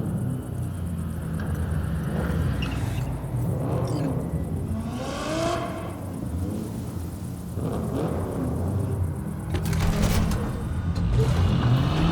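Car engines rumble and rev in the Cyberpunk 2077 video game, with rising whines of acceleration over a continuous low roar, and a voice speaking briefly over the engines.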